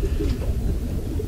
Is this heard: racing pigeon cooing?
yes